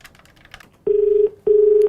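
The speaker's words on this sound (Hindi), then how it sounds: "कॉल मिलाओ" A phone call is dialed, sending two loud steady tones in quick succession after faint clicks, clear and close with no talk over them.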